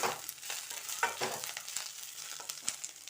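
Green chilies sizzle in a hot pan, with a steady crackling hiss and a few light stirring scrapes over about three seconds.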